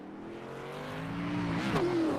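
Race car engines rev and rise in pitch as they refire after a spin at Rockingham in a racing video game, a close, building mechanical drone with a sharp upward sweep near the end.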